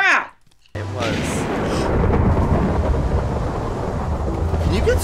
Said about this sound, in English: Can you get struck by lightning in this game?